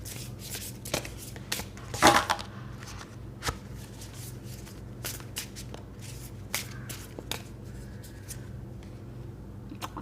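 Tarot cards being shuffled and squared up by hand during a reading, a run of soft papery riffles and taps with one louder flurry near the start, close and quiet with no talking.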